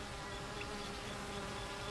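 Honeybees buzz in a dense, steady drone, a close, even swarm hum that holds unbroken throughout, with no voices.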